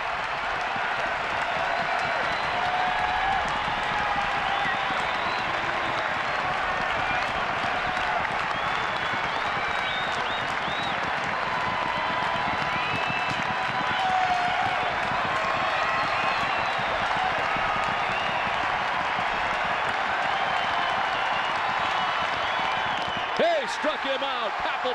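A capacity Fenway Park crowd on Memorial Day roars and applauds continuously at a Red Sox baseball game, a dense, sustained wash of cheering and clapping with no break.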